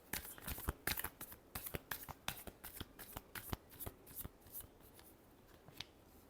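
Tarot cards being shuffled by hand, a quiet, close series of crisp riffling snaps in an uneven rhythm, with no talking over it.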